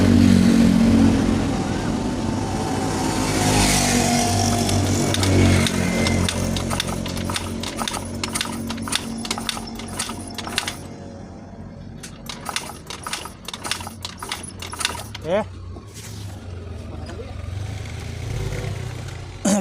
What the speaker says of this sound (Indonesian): Kita langsung coba engkol, kita lihat ya apakah pengapiannya benar hilang.